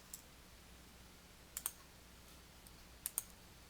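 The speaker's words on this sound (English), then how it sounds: "press the Enter key on your keyboard" A computer keyboard's Enter key gives a few quiet, crisp clicks in pairs, spaced apart against a faint, near-silent background.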